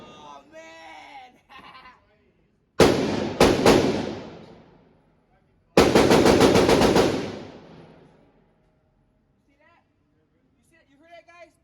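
Full-auto bursts of gunfire from other shooters at an outdoor gun range, two loud rapid-fire strings of about a second and two seconds, with someone talking before and faint voices after.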